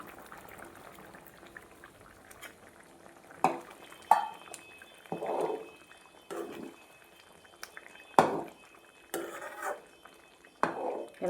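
Cooked moong and toor dal being stirred into sambar in a pot, a quiet bubbling simmer broken by about eight scraping, clanking spoon strokes against the pan.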